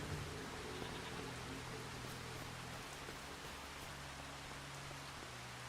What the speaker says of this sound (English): it's bloody raining, which means I can't harvest